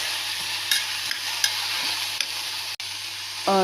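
Sambar vegetables (bottle gourd, pumpkin, carrot, onion, coriander, mint and curry leaves) are stirred together in a pot. Close scraping strokes and light clicks sound over a steady hiss, with no speech.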